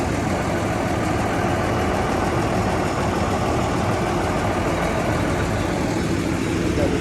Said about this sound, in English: we come over here with the skid